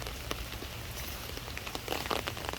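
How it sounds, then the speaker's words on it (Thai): Heavy rain from a passing storm patters steadily on a surface nearby, a soft continuous hiss with scattered sharper drops and a brief denser burst near the end, with no voices. "ฝนตกเบิดมือเบิดคืนเบิดคืนเบิดมือ"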